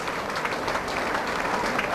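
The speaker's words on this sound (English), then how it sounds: "They quite rightly get an ovation from the Argyle fans." A big Plymouth Argyle football crowd of over 10,000 gives a sustained ovation, dense continuous applause with a faint cheering murmur, steady and loud throughout.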